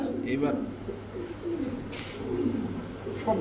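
Soft, low cooing of a male racing pigeon repeats through the clip, with voices talking in the background.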